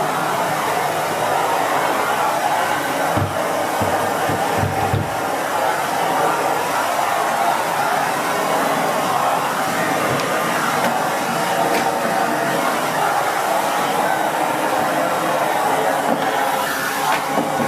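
Miele S8730 HEPA vacuum cleaner running with its floor brush on a hard floor, a steady broadband motor and suction whoosh holding nearly constant at moderate loudness, with a few faint knocks as the head moves.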